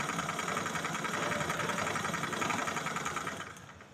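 A sewing machine runs continuously while stitching a triangle piece into a churidar, a fast, even mechanical whirr up close that slows and fades at the very end.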